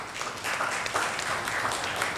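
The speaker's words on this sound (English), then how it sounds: "We'll request you to kindly again give a big round of applause" An audience at an institute's inaugural session applauds in a dense, steady round of clapping that fills the whole stretch at even loudness, with no speech heard over it.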